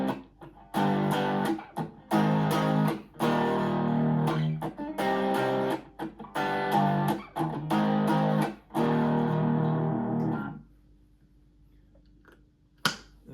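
Distorted electric guitar chords from a song ring out in rhythmic strummed bursts with brief choked gaps, ending in a sustained fading chord and a faint hum.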